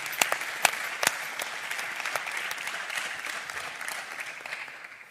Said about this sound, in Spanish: Fuerte el aplauso para Eduardo.